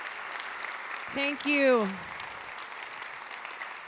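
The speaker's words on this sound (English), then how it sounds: "Let's give her another round of applause." Audience applause after a keynote on Indigenous food systems science at a 2025 festival, a steady wash of clapping from the crowd that runs the whole time while a voice briefly offers thanks over it.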